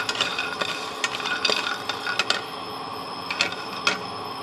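Dry roasting in a hot pan, without oil, while preparing panchmishali torkari, a Bengali mixed-vegetable dish: scattered crackles and scraping clicks from stirring, with a few sharper taps against the pan, close and steady throughout.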